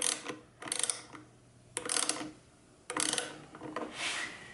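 A wrench ratchets in short clicking bursts while tightening carburetor bolts onto a gasket, with four quiet, close clusters separated by brief pauses.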